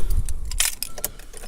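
Car keys for a 1997–2002 Honda Accord jangle in a short, bright burst of metallic clinks, close and alone.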